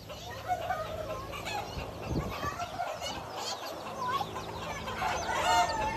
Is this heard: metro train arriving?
no